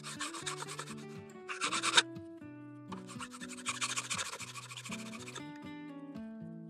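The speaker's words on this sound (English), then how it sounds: "we're going to file this down until we get some nice sharp edges" A hand file working the edges of a metal card scraper, with quick bursts of close rasping strokes separated by brief pauses, alongside sustained tonal music throughout.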